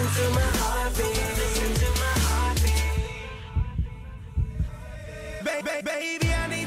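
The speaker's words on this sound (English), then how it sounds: "listen to my heartbeat." A heartbeat sound effect pulses as low, soft thumps set into a love song, layered under the music and swelling, then thinning out midway before the full mix returns.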